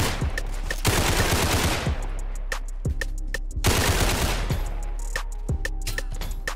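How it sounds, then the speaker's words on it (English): Tommy gun fire in the Roblox game Criminality: two long, loud bursts of rapid automatic shots, each broken by a brief pause, with single sharp shots scattered between the bursts and a steady low hum underneath. "let's just buy this Tommy gun and just start killing people"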